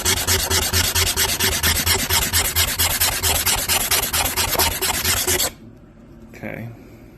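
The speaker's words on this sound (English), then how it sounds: "if you just keep scratching and scratching and scratching" Rough rhythmic scratching and rubbing on a gouged surface of a Yamaha 4 Zinger YT60 ATV, quick even back-and-forth strokes repeating for about five seconds before stopping abruptly, followed by quiet room tone.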